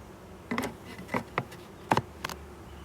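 Bees buzz in short bursts inside a hive being inspected, several brief loud passes close by against a quiet background.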